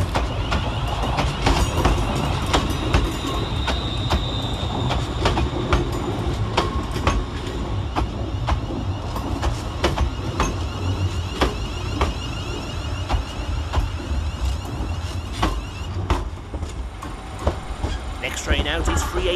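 A ScotRail Class 380 electric train rumbles and clatters close by at Glasgow Central station, with wheel clicks and mechanical whirring, a voice speaking over the noise at times.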